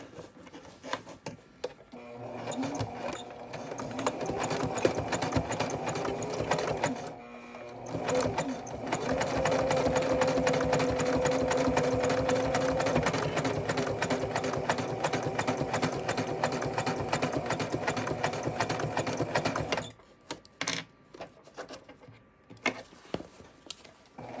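A sewing machine stitches a seam, restarting where earlier stitches ended: a close, steady mechanical whir that runs in two bursts with a brief pause between them, then stops abruptly, leaving quiet handling noise.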